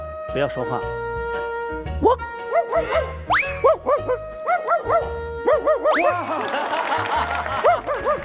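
A pet parrot mimics a dog, producing a string of short, bouncy bark-like calls at close range while people talk, laugh and chuckle around it.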